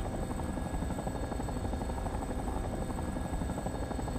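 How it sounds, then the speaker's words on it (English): Helicopter ride in the PC game Fallout 3, Broken Steel expansion: a constant, fast rotor chop with an engine drone, steady and close throughout, and no one talking. "So we just get a helicopter ride with Sarah."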